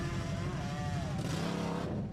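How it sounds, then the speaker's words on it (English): A steady, loud off-road truck engine drone while mudding, with a rough, strained rumble and a wavering pitch, sounding labored and muffled as it holds a constant load. "This is where you start hearing the funky noise it's putting off."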